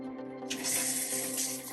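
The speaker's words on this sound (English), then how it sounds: "All the air is out of the lines and water is flowing back nice and smooth." Water runs through the plumbing lines of a Jayco fifth wheel RV after the air is purged; a faint hum gives way to a louder, smooth rushing flow from a tap that holds steady.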